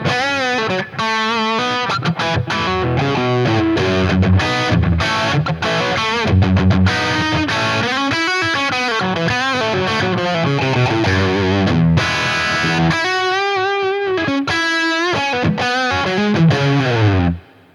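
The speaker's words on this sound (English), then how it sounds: "So there's my basic crunch sound, which is awesome" An electric guitar on its bridge pickup plays through a Boss Katana-50 amp set to a crunchy overdriven tone with some reverb, strummed chords and riffs ringing loud and continuous, ending with a decaying final chord.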